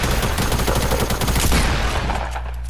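Rapid gunfire bursts from practice shots in the Fortnite battle royale video game, a dense rattling volley of repeated shots that thins out and fades near the end.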